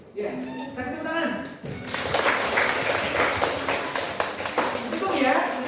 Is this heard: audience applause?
yes